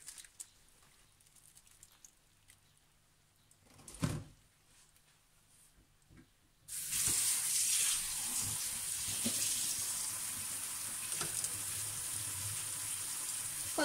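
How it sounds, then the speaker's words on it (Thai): Tap opened to full cold water after cooking spinach in a Thai home kitchen, a steady loud rush of running water that starts abruptly and continues without pause, preceded by quieter kitchen clatter. "เปิดน้ำเย็น ทันทีเลยนะคะ"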